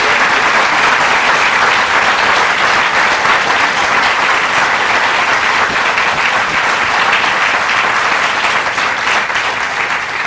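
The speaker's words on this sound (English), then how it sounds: "Please give these students a great round of applause." A large outdoor crowd at a pharmacy school groundbreaking ceremony applauds students, with steady, loud, continuous clapping sustained for about ten seconds.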